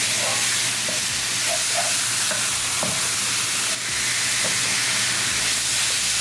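Beef fries in a pan with spices and tadka, a continuous loud sizzle and hiss with scattered light scraping and stirring clicks, close up and without talking.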